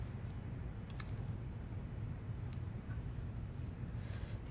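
A computer mouse is clicked a few times during a Windows installation, giving short, faint clicks over a low steady room hum.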